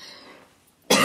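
A single loud, close cough bursts out abruptly after a stretch of quiet room tone, from a person talking and filming indoors who needs a cough drop.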